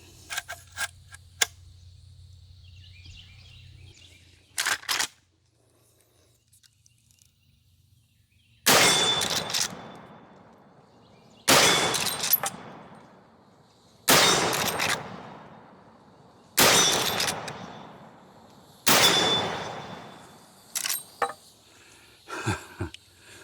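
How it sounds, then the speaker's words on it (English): A Marlin Trapper rifle fired downrange at an outdoor range: six sharp, loud reports spaced a few seconds apart, each ringing out in a fading echo, with faint clicks and handling noise between shots. "send these rounds downrange for just a kind of a warm-up and a little fun"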